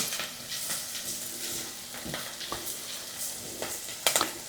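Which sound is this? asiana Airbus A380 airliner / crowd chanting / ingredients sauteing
ingredients sauteing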